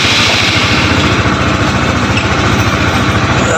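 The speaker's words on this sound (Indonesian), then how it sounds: "mesin, kita hidupin." A sport motorcycle engine idles steadily and loudly up close just after starting, with an even, rapid mechanical pulse and no pauses, running alone without any voices, and no smoke.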